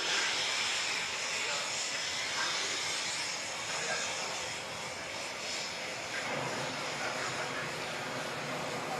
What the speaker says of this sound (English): a pair of RAF Typhoons gave us a little taste a moment ago